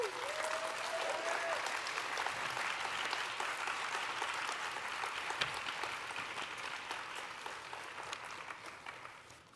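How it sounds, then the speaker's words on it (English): An audience gives a big round of applause for Sarika at a family celebration, dense steady clapping that holds throughout and slowly fades toward the end. "applause."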